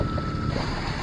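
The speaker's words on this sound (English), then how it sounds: "as I hoped, the wind did pick up." Steady wind rushing over a cruising boat on an open-water trip, a constant close broadband roar with buffeting against the microphone, unbroken through the short stretch.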